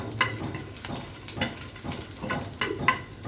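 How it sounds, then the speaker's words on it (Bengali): Chicken sizzles in a pan while a utensil stirs it, giving several soft scraping clatters over the steady frying hiss, close and uninterrupted by speech. "এটাকে একটু ভেজে নিব প্রথমে"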